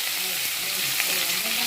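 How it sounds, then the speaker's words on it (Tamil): Onion sizzles steadily in hot oil with mustard seeds for okra millet rice, a close, continuous bright frying hiss with no talk over it. "தக்காளி கருவேப்பிலை கொத்தமல்லி எல்லாம் சேர்த்து நல்லா வதக்கிக்கணும்"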